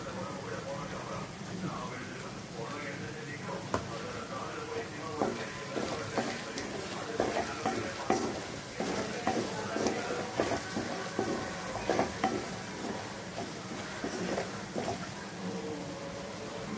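Ginger and garlic frying in oil in a pan for citron pickle, a busy crackling sizzle with irregular stirring scrapes running throughout, moderately close, while a voice talks over part of it.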